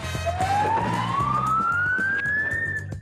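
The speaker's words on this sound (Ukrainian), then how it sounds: "звуки, сирен і постріли чує весь мікрорайон" A police siren wails with a single long rising sweep, loud and steady, over low engine rumble and traffic noise on a street in Kyiv during a chase.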